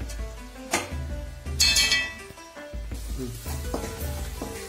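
Vegetables with ginger, garlic, green chilli and curry leaves sizzle in a pan as a spoon stirs and clinks against the metal in short bursts, loud and close.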